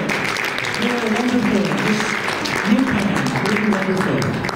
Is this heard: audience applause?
yes